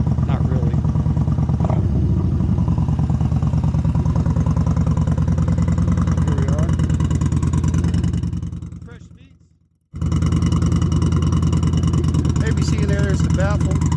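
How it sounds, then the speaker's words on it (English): Motorcycle fitted with a Baron 4-inch exhaust, baffle still in, idling in neutral from a cold start: a loud, steady low throbbing that dips briefly and cuts out before resuming, with a voice talking over it. "So real quick, we'll do a before exhaust note. It's in neutral, so cold start"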